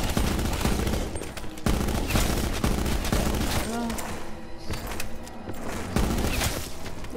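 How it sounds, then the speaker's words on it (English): A multi-barrel gun in a zombie-shooting video game fires loud, continuous rapid bursts with near-constant volume, broken by brief dips, for several seconds. "I will certainly use this whenever I am shooting the undead from a safe distance."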